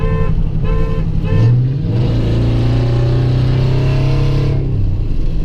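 A street-racing truck, held in fourth, gears down into second and accelerates, its engine droning loud and close and rising in pitch through the downshift, then holding a steady strained roar.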